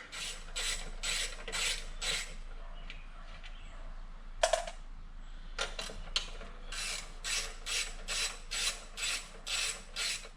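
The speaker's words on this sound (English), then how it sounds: "start scrubbing the lower tank" Scrubbing the rusty lower fuel tank of a Honda ST1300 motorcycle produces repeated rhythmic rasping strokes, close and moderately loud, with a brief pause and a few knocks midway before the steady back-and-forth scrubbing resumes.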